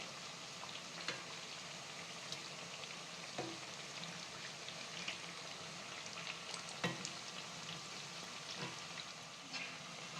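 Fig and lentil vadas frying in hot oil, a soft, continuous bubbling sizzle held at a low level throughout, with small occasional pops and no talking.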